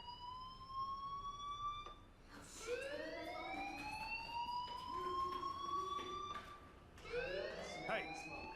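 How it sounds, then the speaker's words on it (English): A fire alarm in the video game Life is Strange wails in rising, sweeping tones that repeat steadily as a faint backdrop, with other game sounds around it. "Hey, do you hear that fire alarm?"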